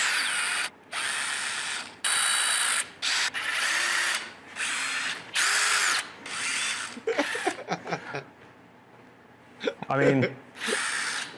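A power drill runs in repeated short bursts during an office setup, buzzing loud and close with brief gaps between pulls, then gives way to clicks and someone speaking briefly.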